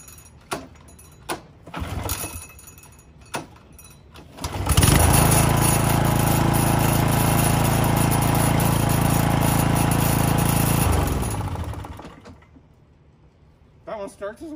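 A used landscaper's lawn mower engine fires after a few clunks, then runs loud and steady for about seven seconds before winding down to quiet near the end.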